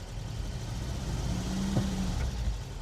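An old car's engine started after eighteen months idle, running low and steady as it tries to creep forward against a jammed brake, with a brief rise in pitch as it strains, no voices.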